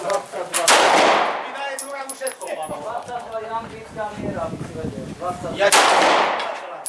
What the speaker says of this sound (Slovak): Dobre, už môže strieľať